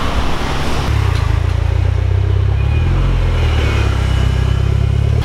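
A 4-cylinder turbocharged project car engine revving hard under boost until the fuel cut kicks in, a loud, close, steady droning roar held for several seconds with no talk.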